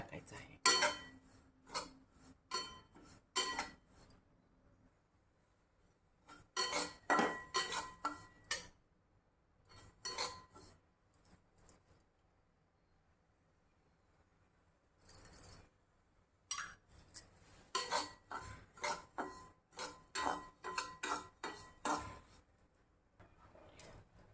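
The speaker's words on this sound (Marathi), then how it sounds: "रवा आधी थोडासा गरम करून घ्यायचा आहे आणि नंतर तूप" Semolina is dry-roasted in a pan while a utensil stirs and scrapes it, giving bursts of sharp metallic clinks and scratching separated by quiet pauses.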